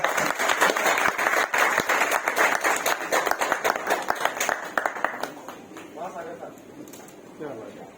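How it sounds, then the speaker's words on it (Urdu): Audience at a naat poetry gathering breaks into loud, sustained applause that fades out toward the end as voices emerge. "میں چاہتا ہوں کہ زوردار تالی۔"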